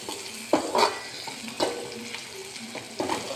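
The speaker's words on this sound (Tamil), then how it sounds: "சுண்டைக்காய், வெங்காயம், சின்ன வெங்காயம், பூண்டு, கருவேப்பிலை, வெந்தயம், மிளகு, சீரகம் எல்லாத்தையும் வதக்கி விடுறேன்" Onions, shallots, garlic, curry leaves, fenugreek, pepper and cumin sauté in a hot pan, a steady sizzle broken by several scraping stirs of a spoon against the pan.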